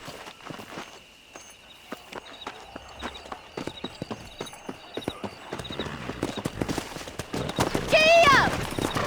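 Hoofbeats of a horse galloping in the Western video game Red Dead Redemption clatter steadily under ongoing talk, growing busier toward the end, where a loud horse whinny rises over them.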